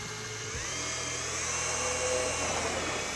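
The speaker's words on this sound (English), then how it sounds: "I'm gonna drill down through and right into that 2x4 underneath" A power drill whines steadily and loudly up close, its pitch rising slightly as it bores down into a wooden 2x4, running continuously before cutting off.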